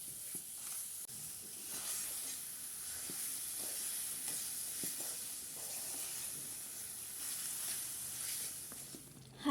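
Sweet potato toffee mixture made with coconut milk is stirred in a pan, giving a soft, steady sizzle and hiss broken by faint occasional clicks and scrapes of the spoon.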